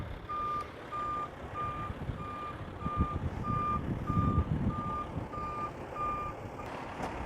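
A truck tractor reverses at a cones-marked driving course, its back-up alarm beeping steadily about every 0.6 seconds over a continuous diesel rumble, with an air hiss near the end.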